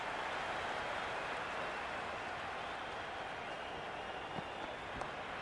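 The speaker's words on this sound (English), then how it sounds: "The crowd is electric" In the Cricket 26 video game, a stadium crowd at a Pakistan vs New Zealand T20 match keeps up a steady, dense wash of applause and cheering throughout, with a couple of faint knocks near the end.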